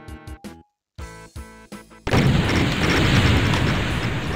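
A weapon fires in Doom 2, starting with sharp separate shots and short gaps, then breaking into a loud sustained blast of explosive noise that fills the rest of the moment.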